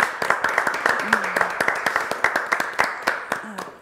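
A modest audience applauds a guest performer during a live session, with scattered, uneven claps that stay fairly close, and a voice briefly cuts through the clapping.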